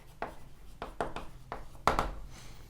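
A pen or marker writes a secondary amine chemical formula during an organic chemistry lesson, making several short scratchy strokes spaced about half a second apart, close and fairly quiet.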